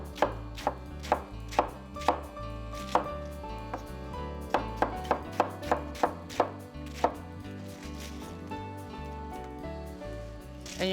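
A knife shreds a cored cabbage on a board in quick bursts of crisp, close cuts. Some stretches are rapid runs and others are single strokes, with a low background hum and no speech.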